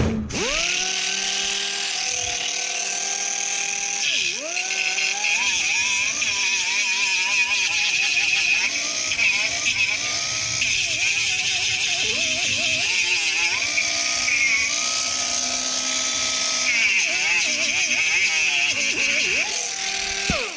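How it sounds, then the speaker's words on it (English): An angle grinder takes burrs off a steel transmission crossmember in a workshop, a steady high whine that dips and recovers in pitch as the disc bites repeatedly over a long stretch, close and loud. "We should try and grind those burrs down before we weld the nut on."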